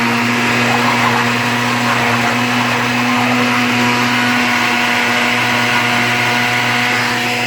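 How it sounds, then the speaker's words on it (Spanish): A blender runs continuously, blending onion and garlic for a red chile salsa. Its loud, steady motor whine holds through the whole clip with no talk. "Y ahí vamos, licuando la cebolla y el ajo"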